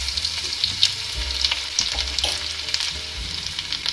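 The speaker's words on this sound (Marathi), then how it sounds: "तेल छान गरम झालेलं आहे। आता आपण अर्धा चमचा जिरे छान फुलले की 1 चमचा अद्रक लसूणची पेस्ट" Cumin seeds and ginger garlic paste hit hot oil in a kadai, giving a steady close sizzle and crackle with small pops and some stirring clatter, and no voices.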